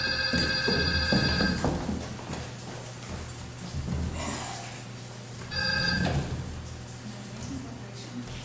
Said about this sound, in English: I think I got a phone call there